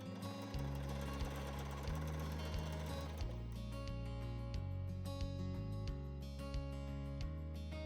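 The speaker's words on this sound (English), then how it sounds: "Continue top stitching all the way down to the longer end of the panel." A sewing machine topstitches along a garment panel, its needle chattering in rapid, even bursts that pause and restart several times, close and clear with no talking.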